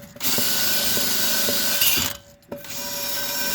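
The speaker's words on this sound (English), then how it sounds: "I went and got a wire brush on the drill." A wire brush spinning on a power drill scrubs at a 1966 Oldsmobile rear brake part, a steady whirring grind with a brief pause and restart near the end, close up.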